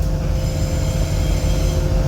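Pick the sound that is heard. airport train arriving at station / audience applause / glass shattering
airport train arriving at station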